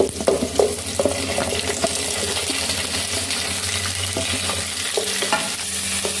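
Grated coconut, tomato and spices roasting in a pan for a spinach and paneer gravy, a continuous sizzling hiss with soft stirring scrapes, close and steady.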